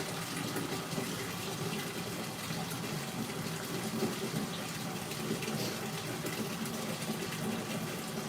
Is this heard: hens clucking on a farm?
no